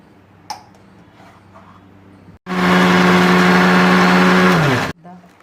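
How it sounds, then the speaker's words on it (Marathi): A kitchen mixer grinder blends soaked ingredients for sol kadhi with a little water. Its motor roars loud and steady for about two and a half seconds, then cuts off sharply, with quieter kitchen noise before and after. "चौथा परत मिक्सरला फिरवून घेऊ"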